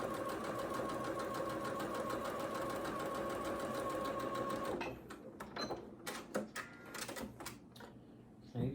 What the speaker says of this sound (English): we've sewn 1/4 inch each side of that marked line